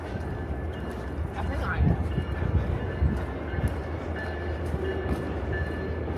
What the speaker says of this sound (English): Amtrak over there.